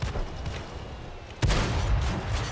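Tank gunfire in World of Tanks, from a CS-44 medium tank firing at a rover: a rumbling battlefield bed, then one sudden loud cannon shot whose booming tail lingers to the end.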